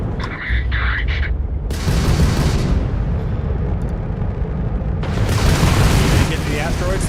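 Heavy combat in the space game Starfield: dense, loud gunfire and booming explosions roll on continuously, with a sharp burst midway and another surge near the end, while voices speak over the noise.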